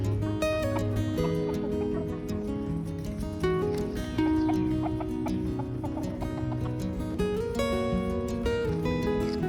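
Backyard silkie chickens cluck and chatter continuously at close range, with overlapping bursts of short calls, some of the birds a little wet while feeding on marshmallows.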